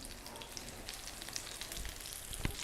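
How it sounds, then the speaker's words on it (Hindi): Kababs shallow-fry in a little oil with a faint, steady crackle and sizzle and one brief sharper pop near the end; no talking. "यहाँ पर हम इसको शैलो फ्राई कर रहे हैं।"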